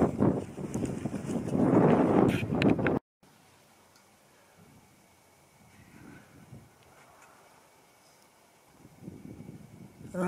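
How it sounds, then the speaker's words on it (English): Outdoor wind gusting across the microphone on a spring day in open country, with a loud, rough buffet at the start, then a low, steady rush and a fresh gust rising at the end. No one speaks. "Wind's blowing a little bit. You can probably hear that."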